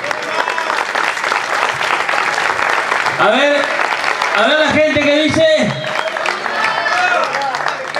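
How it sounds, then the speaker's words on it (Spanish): Applause from a rock festival crowd after La Patada del Duende's set at SoliDAR Rock Fest forms a steady wash of clapping under an announcer's amplified voice, which speaks briefly in the middle. "Fuerte ese aplauso, por favor"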